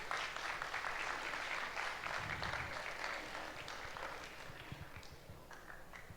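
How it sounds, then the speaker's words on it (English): An audience at a youth panel applauds a panelist, with moderately faint, dense clapping that runs throughout and slowly thins out, a few distinct hand claps popping through toward the end. "Let's give her a round of applause."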